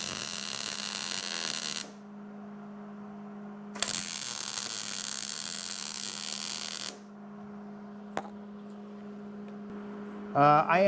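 An electric welder tack welding sheet metal floorboards on a Ford F150 puts out long bursts of steady buzzing crackle with a strong hum. Quieter gaps fall between the bursts, and short sharp pops come near the end.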